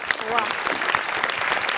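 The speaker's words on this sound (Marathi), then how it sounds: "जोरदार टाळ्या" Audience applause at a Marathi comedy show, Maharashtrachi Hasyajatra, a dense steady clapping that fills the whole stretch at close range with no talk over it.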